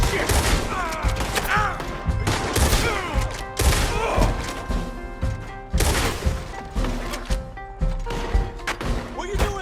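Bursts of gunfire and crashing impacts in Red Dead Redemption 2, loud and dense, with repeated shots and thuds layered under voices and game action.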